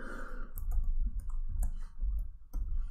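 A computer keyboard typing code, a few close, sharp key clicks spaced irregularly over a low hum and faint breathing, with no speech.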